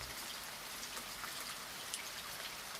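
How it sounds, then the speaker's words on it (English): Rain on a window, a soft, steady patter of fine drops tapping glass, faint and continuous with scattered slightly sharper ticks, no voices. "rain on the window"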